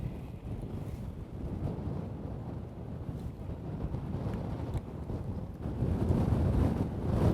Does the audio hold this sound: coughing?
no